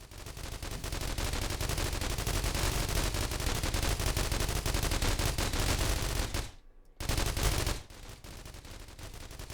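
Turrets firing in The Walking Trade, a steady, rapid stream of gunfire that breaks off sharply for a moment near the end, then resumes and fades somewhat.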